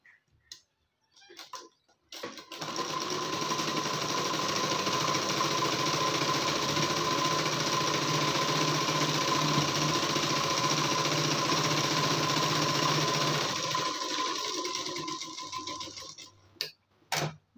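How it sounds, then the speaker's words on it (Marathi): Sewing machine running a continuous double line of stitching on a blouse, a rapid even ticking rattle close by that starts after a few faint clicks and stops abruptly, with no talk. "मी मजबूतीसाठी डबल टिप मारून घेते."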